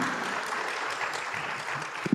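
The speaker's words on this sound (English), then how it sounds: "Please give big applause to her." A crowd applauds at an inclusive education talk show opening ceremony in Manokwari, Papua, a dense steady wash of clapping throughout, with a couple of louder sharp bursts near the end.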